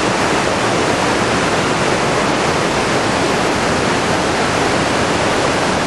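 A waterfall at Golden Ears Park, heard from near its top, roars as a loud, steady, dense rush of water with no break across the whole span.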